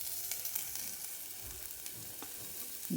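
Onion and garlic sizzle and fry in half a teaspoon of butter in a bowl on a stove, a steady close crackle with faint stirring scrapes throughout, no voices.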